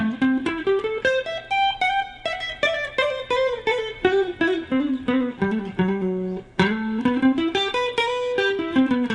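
Clean electric guitar picks out a rising and falling minor 9 arpeggio, notes ringing in quick succession and repeating the pattern twice, with no voices.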